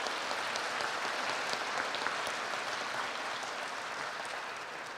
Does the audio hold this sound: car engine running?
no